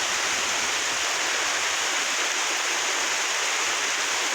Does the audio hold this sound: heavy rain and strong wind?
yes